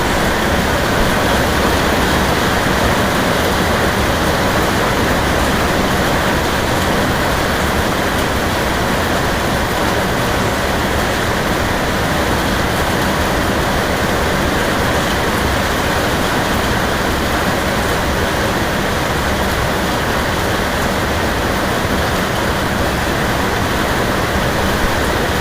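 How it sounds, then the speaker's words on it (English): Heavy rain pours as a dense, steady broadband hiss that stays loud and unchanging throughout, with no voices on top. "I'm sorry about the rain in the background"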